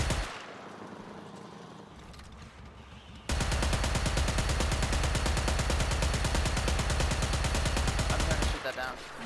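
Dense, continuous automatic gunfire in the sci-fi shooter Warframe roars up after a quieter stretch and holds steady for several seconds at close range, then cuts off abruptly.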